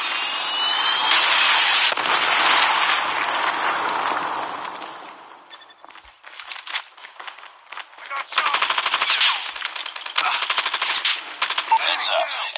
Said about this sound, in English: Sentry gun ready to deploy. Sentry gun deployed.